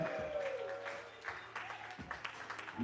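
Applause and cheering from the crowd at an open mic poetry night, a short burst of clapping with some voices mixed in, moderately loud and uneven.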